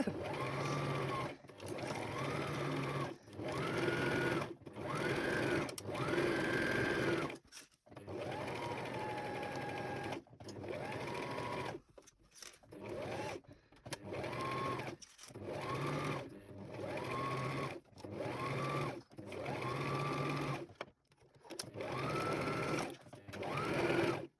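A home sewing machine stitches a Christmas stocking seam in repeated short runs, whirring steadily for a few seconds at a time with brief stops between, close and fairly quiet with no talk.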